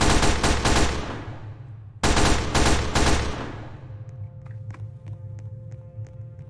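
In the Roblox game SCPF, Area Omega, a machine gun lets off two loud, rapid bursts of close gunfire, each a few seconds long. Faint game tones and light tapping follow as the firing stops.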